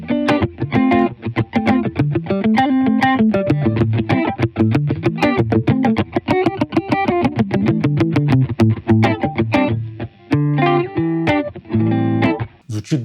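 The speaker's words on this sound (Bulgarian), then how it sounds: "Сега ще ви покажа какво прави Clean Boost." Electric guitar played through a clean boost pedal on a pedalboard, a continuous run of strummed chords and picked notes, full and saturated, loud and alone for about thirteen seconds.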